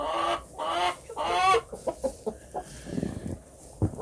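Chickens cluck and a rooster calls on a snowy farm, with several short bursts of clucking close by that fall away into quieter scratching sounds.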